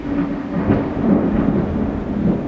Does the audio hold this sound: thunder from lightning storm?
yes